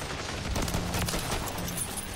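Paired akimbo JAK aftermarket guns fire in a video game, a dense continuous fusillade of rapid overlapping shots lasting about two seconds with no voices.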